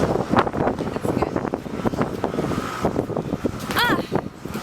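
Wind buffets a microphone outdoors at a water tank job site, a rough continuous low rumble with gusty swells, while a person talks briefly over it.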